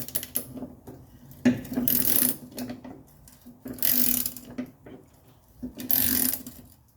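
Nuts being fitted and tightened on the back of a part, heard as close ratcheting and mechanical clicking in three separate bursts with quieter handling noises between them.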